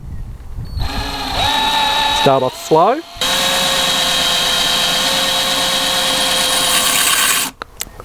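A power drill bores a pilot hole into tile for a cheap mosaic substrate, a steady high whine running for several seconds after a brief start, with a person speaking briefly before it.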